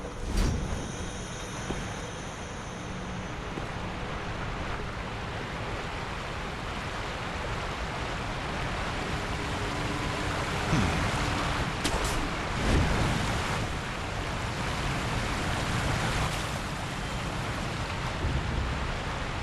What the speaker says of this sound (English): The noise of the roaring waterfall is deafening.